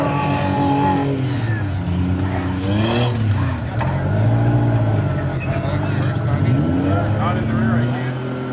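A Benner Motorsports off-road vehicle works along a side hill at Rausch Creek Off Road Park, its engine droning loud and steady with rising and falling revs, while people talk over it.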